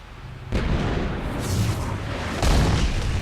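Gunfire and explosions in the Mass Effect 3 video game: two heavy booming bursts, one at about half a second and another near two and a half seconds, with rumbling battle noise sustained between them.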